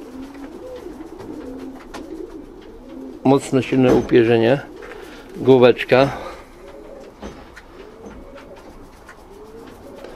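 Janssen racing pigeons coo in two distinct bursts of throaty, rolling calls, close by, while someone talks quietly before, between and after them.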